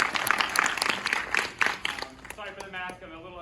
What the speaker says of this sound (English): How about another round of applause for the choir?